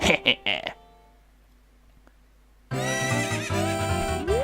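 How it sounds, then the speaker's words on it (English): A horse neighs in a few sharp bursts in The Legend of Zelda: Ocarina of Time, then a quiet stretch, followed by steady layered music that starts abruptly and continues. "I don't know why that horse was just freaking out"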